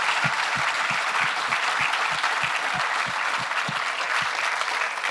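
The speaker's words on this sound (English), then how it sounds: "Can we give another round of applause to Ron Butler?" Full room of people applauding at a book conversation event, dense continuous clapping with a regular low thump running through it, loud and steady throughout.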